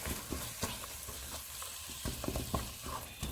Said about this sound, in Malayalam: ഇതിലോട്ട് നമുക്ക് എടുത്ത് വെച്ചിരിക്കുന്ന ടൊമാറ്റോ പ്യൂരി ഇട്ട് കൊടുക്കാം.